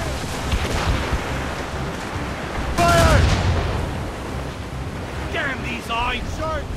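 Squall wind and crashing sea waves at sea aboard a sailing ship in Assassin's Creed Rogue, a steady loud roar of wind and surf with bursts of heavier wash and shouting voices over it.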